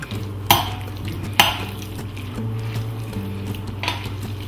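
A spoon stirring pea and walnut pesto through linguine in a pan, with wet squelching movement and a few sharp clinks of metal against the pan, close and steady.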